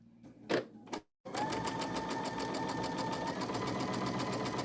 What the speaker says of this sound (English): We're going to sew these together.